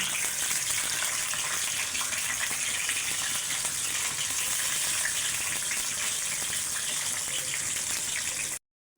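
Onion, garlic and dried chili frying in a pan, a steady broad sizzle that runs unbroken and fairly loud before cutting off abruptly near the end.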